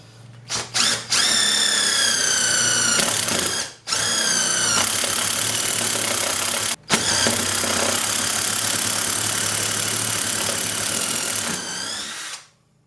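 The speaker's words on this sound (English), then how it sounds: "we got these 2 holes drilled" A power drill bores holes at least half an inch deep into wood for dowel rods. It runs in several loud, close bursts of whining motor with short stops between them and no talking.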